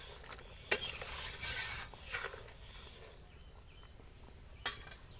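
Cumin paste being stirred in a cooking pan for a cauliflower and duck egg curry, with a few scraping and clinking strokes early on, a soft sizzle underneath, and one more sharp clink near the end.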